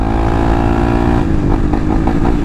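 A Honda XRE 300 motorcycle engine revs hard and close, a loud, steady mechanical roar that rises and surges in quick pulses toward the end, with no one talking.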